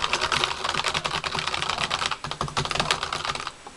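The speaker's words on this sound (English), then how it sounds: "start typing." Fast, continuous typing on a computer keyboard, dense clattering keystrokes close to the microphone, loud and steady with brief pauses before stopping near the end, no voices.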